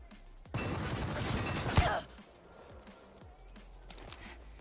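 Sustained automatic gunfire in the battle royale shooter Super People, a dense, noisy volley of rapid shots lasting over a second with a sharp crack near the end, then quieter scattered sounds.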